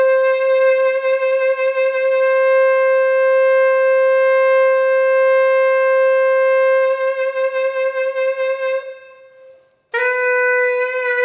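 An electric guitar played through MIDI Guitar 3 and voiced as a saxophone: a long, steady sustained reed-like note held for several seconds, then a wavering passage, a brief fade to near silence and a new note entering abruptly, loud with no talking.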